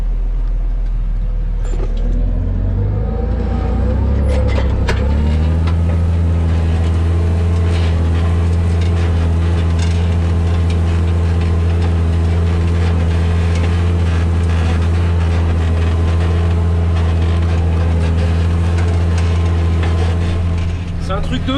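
A farm vehicle engine strains with a loud, steady, heavy drone as its wheels slip in mud hardened like concrete, and the rumble holds throughout.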